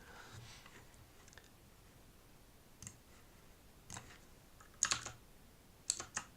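Computer keyboard typing during a Mac setup, faint scattered keystrokes with a few sharper clicks near the end, alone and close.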